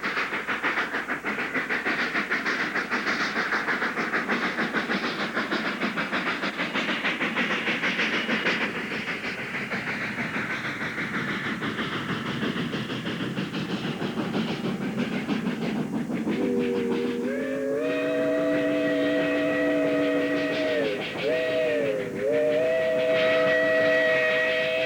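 A steam-era mixed train runs on the Moscow, Camden and San Augustine shortline railroad, rumbling and hissing steadily before a loud steam whistle sounds in long sustained blasts near the end.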